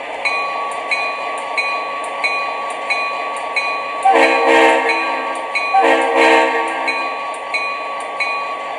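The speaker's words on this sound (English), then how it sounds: "But here is the bell." Steady metallic ringing of a locomotive bell, repeating at an even pace over a constant idling rumble, with brief louder bursts of horn-like noise midway.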